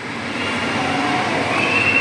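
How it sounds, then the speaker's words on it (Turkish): A small ride-on train at an indoor playground, giving a steady close mechanical rolling hum and whine that stays even for the whole stretch. "Gel seni trene bindireyim ben. Küçücük bir tren var."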